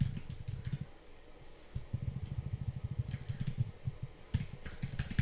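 Fast typing on a computer keyboard, dense runs of close keystrokes with a few brief pauses between bursts.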